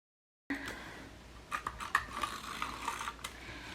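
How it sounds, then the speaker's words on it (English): A tape runner is drawn along a paper flap to glue it down, producing a quiet, close, scratchy ratcheting rasp in short strokes with soft paper rubs. "So I'm just gonna take my tape runner"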